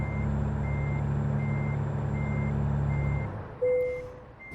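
Stock engine sound of a Freightliner Century truck in a video game; a low steady idle rumble with regular reversing beeps, then the engine cuts and a short air brake hiss and tone follow, moderately loud.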